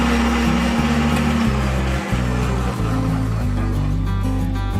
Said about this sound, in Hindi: इलायचियों को भी हमने ब्लेंड कर लिया है।